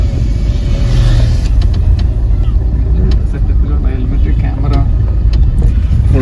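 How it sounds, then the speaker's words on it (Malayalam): A group of motorbike riders on a partly off-road route near Gundathur reservoir, engines rumbling loudly and continuously as several bikes pass close by, with a voice talking over them. "ഒരുപാട് റൈഡേഴ്സ് ഇങ്ങനെ പോകുന്ന കാഴ്ച നമുക്ക് കാണാം"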